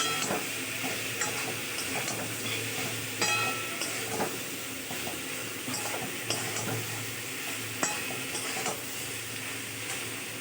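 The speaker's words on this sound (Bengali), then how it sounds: "তো একটু নেড়ে নিই, তারপরে পোস্তটা দিয়ে দেবো, দিয়ে চাপা দেবো।" Food frying in a pan being stirred after salt is added, before poppy seed paste goes in: a steady low sizzle and hiss with repeated scraping, clinking strokes of a spatula at an irregular pace.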